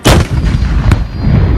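A powerful car bomb goes off at night in a high-security area of Kabul, near the defence minister's home. A loud, sharp blast is followed by a heavy rumbling roar and a second brief crack.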